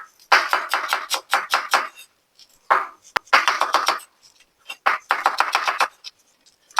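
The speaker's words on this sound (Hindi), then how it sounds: "पालक की जो आपने कटिंग करनी है वेरी फाइन चॉप करनी है" A knife chops spinach very finely on a board for pakora, fast rhythmic bursts of close, crisp strokes with short pauses between runs.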